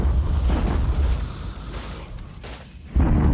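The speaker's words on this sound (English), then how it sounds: "Our usual bombardment." Artillery bombardment in a World War II Pacific strategy game, a heavy, rumbling wash of explosions booming continuously, dipping briefly before a fresh loud blast near the end.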